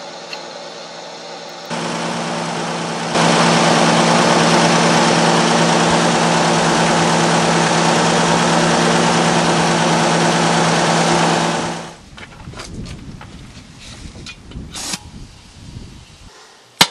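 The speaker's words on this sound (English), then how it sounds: "go ahead and put the other air compressor back on" An air compressor engine powers a makeshift bead blaster for cleaning a truck rim, droning steadily and loudly with a tractor nearby, then cutting off near the end, leaving faint clatter and scattered knocks.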